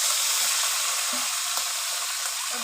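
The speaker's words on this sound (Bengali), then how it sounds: "আমি এবার চিংড়ি মাছগুলো ভেজে নিচ্ছি" Prawns frying in hot oil in a pan, a steady loud sizzle and crackle throughout with small pops and no talk.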